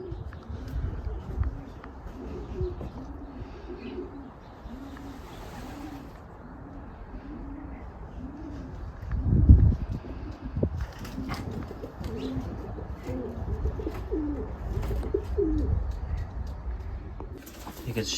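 Racing pigeons cooing in a loft, repeated soft throaty coos in a steady rhythm, with wing flutters and the shuffle of someone moving nearby.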